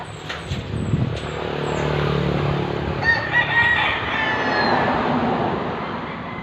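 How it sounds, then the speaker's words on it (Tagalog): Chickens and roosters call beside a roadside house. A rooster crows loudly and repeatedly over a steady bed of clucking and traffic hum. "Mga manok mo. Hello, manok."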